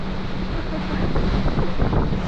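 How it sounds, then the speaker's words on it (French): Strong wind roars across the microphone aboard a racing sailboat at sea, with waves rushing steadily beneath in a dense, unbroken wash of noise. "Il y a trop de vent."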